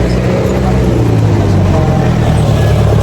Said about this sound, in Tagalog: medyo maingay kasi may mga truck na dumaan